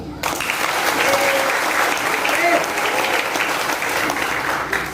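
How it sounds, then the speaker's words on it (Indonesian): A crowd claps steadily at a Borneo Dayak gathering, sustained applause from many hands at close range, holding for about five seconds with a few faint voices mixed in. "Tepuk tangan Pak."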